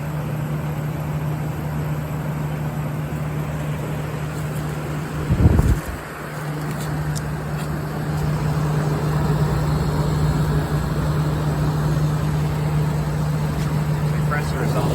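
A curb-found General Electric Thinline window air conditioner, a 12-amp unit, runs with its compressor humming steadily and refrigerant hissing faintly, joined by a brief louder thump midway, with a voice talking over it.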